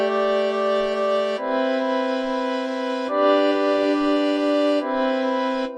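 Sustained synth chords pass through FL Studio's Fruity Reverb 2 with room size turned to full, four held tones changing in sequence, each smeared into a wide, washy tail with no talking.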